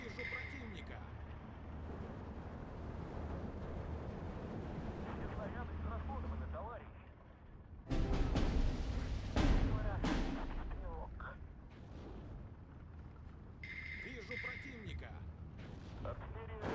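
Artillery fire in the World War II strategy game Steel Division 2, with ZiS-3 field guns in a Soviet campaign: dense rumbling battle noise with a burst of loud sharp blasts in the middle, under a speaking voice.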